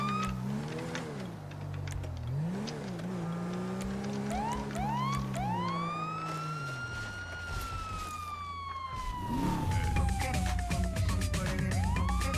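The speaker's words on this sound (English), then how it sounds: "Oh, we got the sirens." Police car siren in the FiveM mod of GTA V, a loud wailing tone sweeping up and down continuously, then settling into a long falling wail over engine rumble, with no talk.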